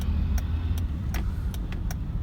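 A Honda City ZX GXi creeps up a steep road in gear without throttle, its engine a steady low drone with a faint regular ticking running through it.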